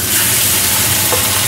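Diced chicken sears in hot oil in a pan over high heat, a loud, dense, unbroken sizzle close up with no voices.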